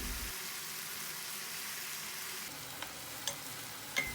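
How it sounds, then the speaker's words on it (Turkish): Chicken sizzles steadily in a hot pan over medium heat, a constant frying hiss with a few faint clinks near the end. "Tavukları orta ateşte kızartıyorum."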